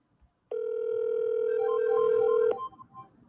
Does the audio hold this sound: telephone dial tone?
yes